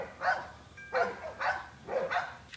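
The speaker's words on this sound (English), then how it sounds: "And then, of course, cue the dogs." Dogs barking nearby in a steady run of about four sharp, evenly spaced barks, loud and clear against a quiet background with no talking.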